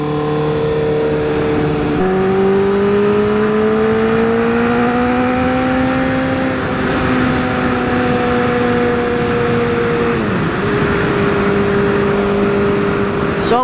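A 2012 Honda CBR1000RR sport bike engine pulls hard under full throttle, a loud steady high-pitched howl rising in pitch with a brief shift dip partway through, sustained and close throughout.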